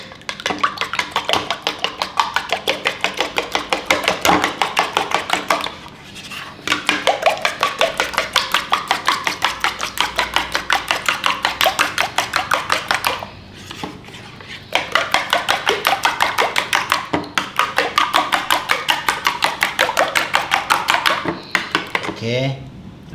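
Three eggs whisked in a bowl with quick, steady rhythmic tapping strokes, close and fairly loud, running in long bursts with two short pauses.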